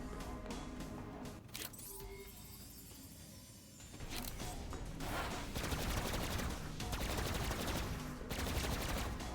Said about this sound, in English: I'm just shooting my infinite ammo gun out of frustration